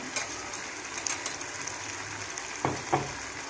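Ginger garlic paste frying in a pan, a quiet steady sizzle with a few soft stirring scrapes and taps near the end, close and alone.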